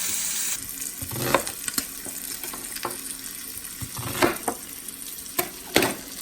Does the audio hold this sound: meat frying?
yes